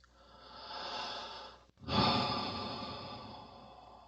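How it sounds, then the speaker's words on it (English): One slow, deep breath, a long inhale, a brief pause, then a longer audible exhale, soft and close during a relaxation exercise. "So breathe."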